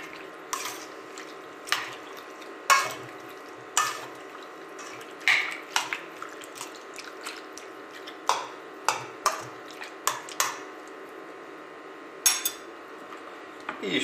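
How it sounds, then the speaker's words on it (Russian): Fish marinating in 6% vinegar is stirred, giving a steady run of soft wet clinks and drips, roughly a dozen spaced taps of utensil against a dish over a quiet background, close and without talk. "Перемешиваем."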